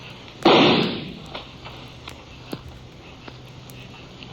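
A single sharp revolver shot early on, followed by a decaying rumble and faint scattered clicks in a quiet space, from an old radio western drama.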